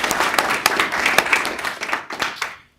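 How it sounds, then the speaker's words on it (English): A room gives a brief round of applause for Alpha Phi Alpha at a board of education meeting, dense clapping for under three seconds that fades out at the end. "a nice little round of applause for Alpha Phi Alpha"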